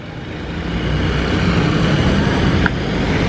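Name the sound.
stock PHDM B13 car driving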